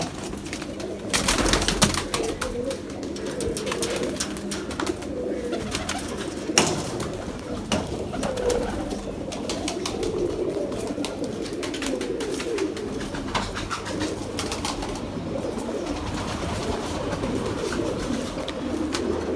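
Highflyer pigeons in Lahore coo steadily in a soft, rolling murmur, close by, with a brief flutter of wings and no talking.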